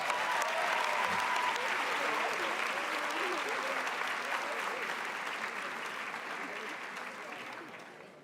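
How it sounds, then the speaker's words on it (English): Sustained audience applause at a school district honors night ceremony, a steady wash of many hands clapping that slowly fades toward the end. "I ask you guys to join me with a round of applause for Ms."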